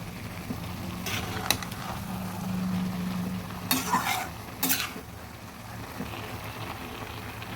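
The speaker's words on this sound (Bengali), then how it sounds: "এবার ভালোভাবে নেড়ে দিচ্ছি" Ash gourd pieces being stirred in a cooking pan for a hilsa fish head curry, with steady scraping and clattering of the spatula against the pan, sharp metallic knocks near the start and middle, and a low background sizzle, no speech.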